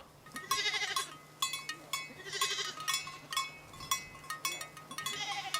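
Several sheep bleat repeatedly on high mountain pastures in Lofoten, Norway, overlapping, fairly close and loud over a faint steady hum.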